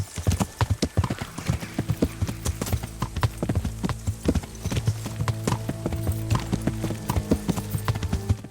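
A galloping horse in Kingdom Come: Deliverance drums out fast, even hoofbeats close by, the rhythm continuous across the stretch with occasional brief snorts and light rattling gear.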